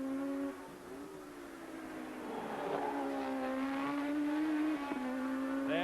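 Formula One race cars at the 1982 British Grand Prix roar past, engines rising and falling in pitch as they pass, moderately loud and without talk.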